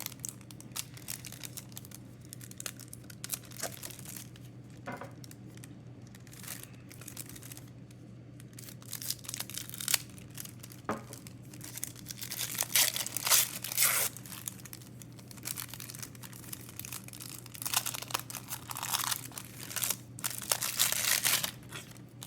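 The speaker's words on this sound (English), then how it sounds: "And lastly, let's open up the deck." Plastic wrapper torn and crinkled off a Lorcana Ursula's Return Sapphire Steel starter deck, close crackling and crumpling in uneven bursts that build louder toward the end, with no talk.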